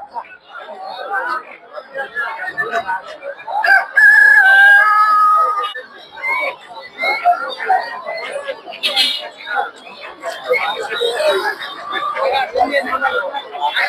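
Chickens and roosters at a poultry market, with a rooster crowing partway through amid clucking, crowd chatter and people talking nearby.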